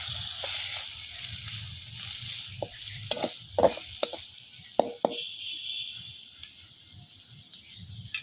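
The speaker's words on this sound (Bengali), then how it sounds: "সামান্য হলুদ গুঁড়ো, এবার আমি একটু নেড়ে নেব" Chowmein ingredients with turmeric and salt being stirred in a frying pan: a soft continuous sizzle runs under several sharp scrapes and knocks of the spatula against the pan, close by, with no talk.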